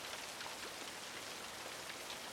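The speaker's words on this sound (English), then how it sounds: "It's so soothing to listen to the sound of rain" Steady rain falls in an even, continuous hiss of countless drops, close and unbroken, with no voices.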